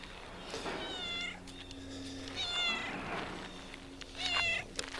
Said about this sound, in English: Crazy cat keeps running into me, almost tripping me.